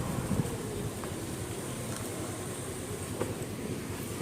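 A train at Samba railway station gives a faint, steady low rumble, with a few soft metallic clicks over a constant background.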